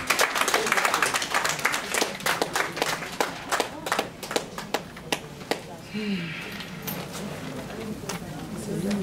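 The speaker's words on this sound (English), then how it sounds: "A round of applause for Mrs. Sofiawe," Applause from a women's conference audience in Dallas, many hands clapping in a dense, lively burst that thins into scattered claps before a short stretch of murmuring.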